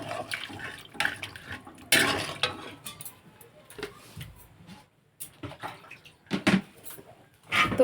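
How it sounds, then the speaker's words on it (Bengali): Water poured into a pan of sautéed curry, a splashing burst near the start followed by several shorter pours and clatters of the pan, with quieter stretches between. "এখন কিন্তু আমি এতে জল দিয়ে দেব।"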